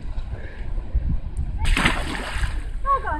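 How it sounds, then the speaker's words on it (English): A person jumps into rough, choppy water, making a loud close splash midway that is followed by sloshing, with voices talking around it. "Jump on in, Zane."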